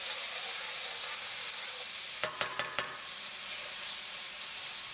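Garlic and ginger paste sizzles steadily in hot oil in a pan for a veg vindaloo, a continuous close hiss with a few brief clicks of a utensil partway through.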